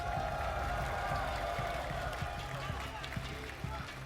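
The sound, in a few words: esports arena crowd cheering and applauding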